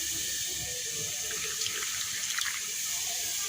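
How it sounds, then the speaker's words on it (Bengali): Hot water poured from a pot into a cooking pan over pumpkin and Malabar spinach seasoned with salt, chili and turmeric, a steady close splashing pour running evenly from start to end with no talk. "সিদ্ধ হওয়ার জন্য পানি দিয়ে দেবো"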